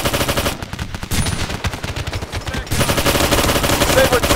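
Bursts of automatic rifle and machine-gun fire in Operation Flashpoint: Dragon Rising crackle close and loud in rapid volleys. There is a short lull in the middle, then a heavier sustained barrage.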